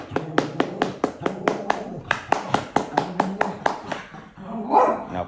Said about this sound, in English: Clap with your arms.